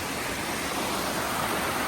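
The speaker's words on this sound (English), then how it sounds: "Cool waterfall." Waterfall pouring straight down beside a small footbridge, a steady dense roar of rushing water filling the whole stretch evenly and close by, with no voices.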